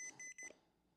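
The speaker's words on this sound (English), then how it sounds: "Also alarm. Harmful." A handheld electromagnetic radiation tester sounds its alarm as a few short, shrill electronic beeps that stop abruptly. The beeps are faint and heard alone, with no talking over them.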